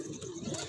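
A female breeding pigeon from Lahore coos once in a loft, a soft, low, close-up burble lasting under a second.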